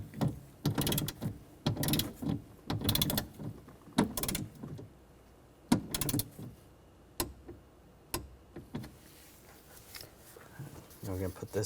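Ratcheting clicks from a torque wrench tightening window regulator bolts to 7 foot-pounds on a 2009-2013 BMW 328i xDrive, short bursts of rapid ticking separated by pauses, close and moderately loud.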